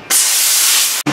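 Aerosol penetrating spray blasts onto a stuck rear wheel bearing of a 2005 Ford Explorer, a loud, steady hiss lasting about a second that cuts off abruptly, with no talking.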